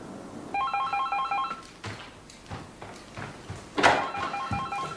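An office telephone rings in two short trilling bursts, loud and close, separated by quiet pauses with faint movement sounds.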